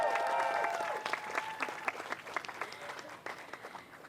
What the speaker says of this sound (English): Clap yourself today.